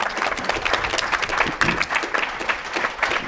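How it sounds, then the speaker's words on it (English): Audience applause at a conference on blockchain and bitcoin: steady, fairly thin clapping from a crowd, lasting the whole few seconds at moderate level with no voices. "What you guys just exhibited is what at our events we call sort of like a lame round of applause"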